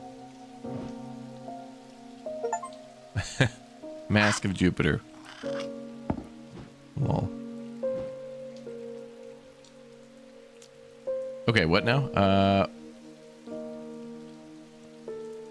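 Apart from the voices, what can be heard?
rain falling in video game Strange Antiquities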